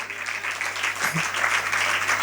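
A crowd applauds steadily throughout, a dense patter of many hands clapping at moderate volume.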